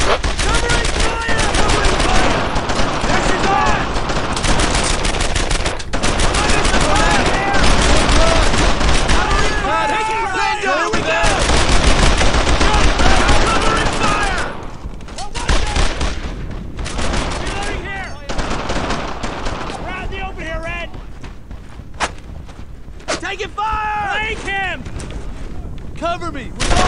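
Constant rifle and machine-gun fire with heavy booms from a World War II shooter, Brothers in Arms: Earned in Blood, with soldiers shouting over the dense, loud battle throughout.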